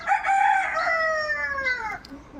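A chicken gives a single drawn-out crow, fairly close and clear, fading at the end and followed by a faint rustle.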